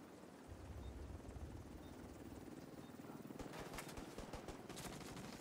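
Rotor thump of an extraction helicopter arriving over the Dark Zone in The Division 2 on hardcore mode, a steady low drone growing busier as bursts of gunfire crackle in alongside it.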